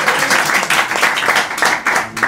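An Edinburgh Fringe comedy crowd claps loudly to vote for a comedian, with thick, continuous applause filling the room and a few voices mixed in.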